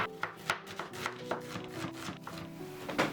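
A whole onion is chopped with a knife on a board, with quick, irregular close taps and thuds of the blade, around a dozen cuts in a few seconds.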